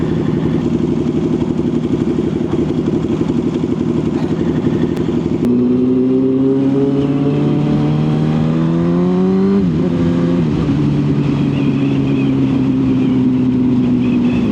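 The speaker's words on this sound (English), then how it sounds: "The R1 feels like a R750 right now. I think it's misfiring." A Yamaha R1 sport motorcycle with a suspected misfire runs at a steady loud idle and then revs up in rising sweeps, drops back, and climbs again, close and continuous with no talking.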